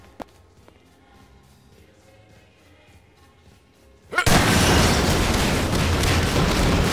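Explosions in the video game Prop Hunt arrive as a sudden loud blast after a quiet stretch, then a continuous roaring barrage of booms and gunfire that fills the rest of the moment.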